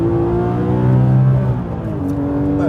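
A Porsche 911 GT3 RS 4.0 lapping Silverstone circuit, its engine note loud and steady with strong harmonic tones that dip and shift pitch as it brakes on the ceramic brakes and turns toward the apex, with no talk over it.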